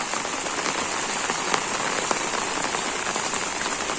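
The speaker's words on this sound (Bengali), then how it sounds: "এত বৃষ্টি ভালো লাগে না।" Continuous village rainfall patters and hisses on a surface, with a few louder individual drops ticking through the steady wash.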